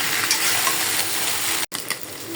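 Potatoes and eggplant frying in oil, a dense continuous hiss and crackle close up, with a brief break partway through before the sizzle resumes.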